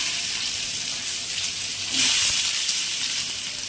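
Chopped ginger, garlic, tomato and onion go into hot oil for chicken patties and fry with a steady hissing sizzle that swells briefly when the pan flares up, with no talking.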